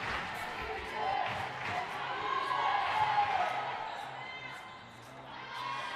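Crowd at a girls' under-18 state championship basketball game chanting for defense and clapping in rhythm, a distant, echoing steady chant in a gym with a commentator talking over it.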